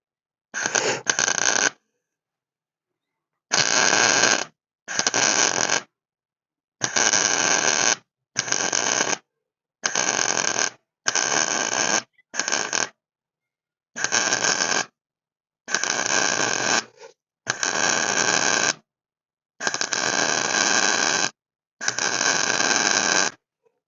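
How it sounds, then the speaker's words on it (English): An arc welder works on the hood of a 1956 Ford milk truck, crackling loudly in about thirteen separate bursts of one to two seconds each, split by short silences. "All right, I'm going to weld her."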